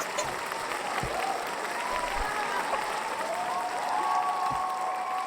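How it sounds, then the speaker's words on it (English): An audience cheers and applauds together in a steady, loud wash of clapping and voices that holds for the whole stretch without pause. "That's the biggest cheer I've ever got."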